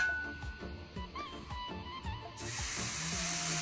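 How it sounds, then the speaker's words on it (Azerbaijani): Batter hits an oiled saj griddle and breaks into a loud, steady sizzle, following a stretch of quieter clattering kitchen sounds. "İndi mən sacı yağlayıram və umacı yağın sacın üstünə tökürəm."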